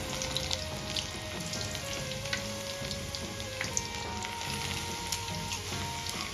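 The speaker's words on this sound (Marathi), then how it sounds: "आणि चम्मचच्या साहाय्याने अशा प्रकारे हलवायचं म्हणजे आपली डाळ पण जळत नाही आणि व्यवस्थित तळल्या जाते" Moong dal frying in hot oil inside a strainer, stirred with a spoon, gives a steady, dense sizzle and crackle with small scraping clicks, close and continuous throughout, no voices.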